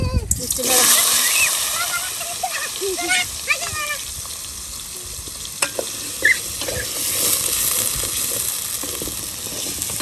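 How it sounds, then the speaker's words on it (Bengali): Potatoes lightly frying in hot oil in a large pot for beef biryani, a steady loud sizzle with scraping stirs and splatter throughout, while people talk nearby. "আলুগুলো হালকা ভাজি দিতেছি"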